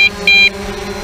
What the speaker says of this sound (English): you got to sit there and listen to that beep, beep, beep, beep, beep, beep, until you land and turn it off